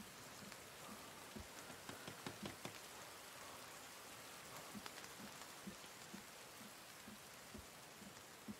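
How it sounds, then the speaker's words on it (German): Steady rain pours in the survival video game The Forest, a dense hiss with scattered sharper droplet taps, fairly faint and continuous with no voices. "es regnet"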